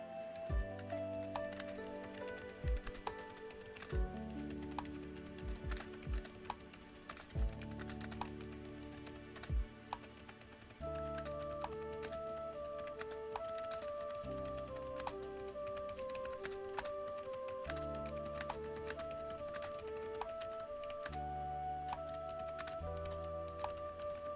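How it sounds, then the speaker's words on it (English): A loud computer keyboard clatters with scattered clicks in irregular bursts, faint under steady music from a Breath of the Wild game. "I hope you can't hear me clicking away. I get told a lot that my keyboard is very loud."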